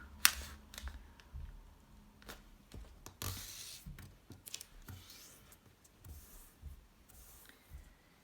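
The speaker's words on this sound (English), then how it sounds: "So put the color side down and then fold in half." Square origami paper, colored on one side, being folded in half by hand: soft, close crinkles and papery creasing rustles come in short irregular bursts, with a sharper crackle near the start and quieter handling noises throughout.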